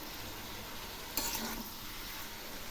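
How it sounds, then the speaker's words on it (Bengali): Steamed cabbage with salt and turmeric being stirred in a frying pan, a steady soft sizzle with a brief scraping stir partway through, close and fairly quiet. "এবার আমি নেড়ে দিচ্ছি।"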